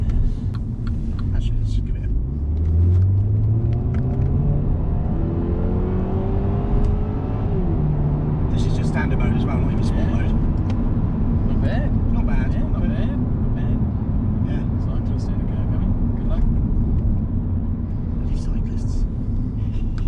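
A Mini Clubman F54 accelerates hard, its engine note rising steadily in pitch through the gears with a loud, continuous rumble and road noise from inside the cabin, while voices talk over it.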